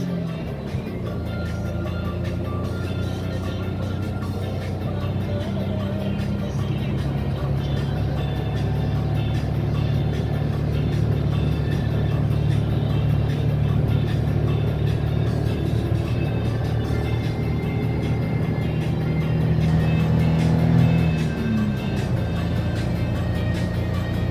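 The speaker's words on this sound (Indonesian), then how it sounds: "Ramai mobil nih." Continuous traffic of cars and buses on the winding Gunung Salak mountain road between Nisam and North Aceh, a steady loud engine and tyre roar with vehicles passing close by, one heavier vehicle swelling and fading near the end.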